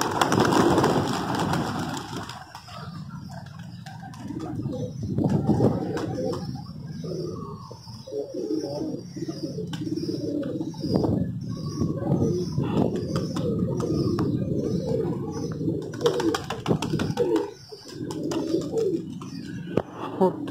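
Pigeons coo steadily in a low, throaty murmur, a colored pigeon among them, with fainter background bird calls and no clear speech throughout.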